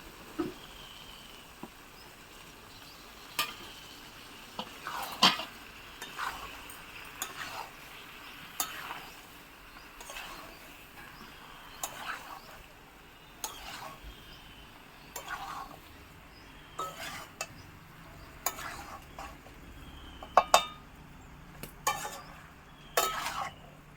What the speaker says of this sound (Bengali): এবার এর মধ্যে সেদ্ধ করে রাখা এঁচোড় আর সেদ্ধ করে রাখা আলুটা দিয়ে দেবো। দিয়ে মশলার সঙ্গে খুব ভালো করে কষিয়ে নেব।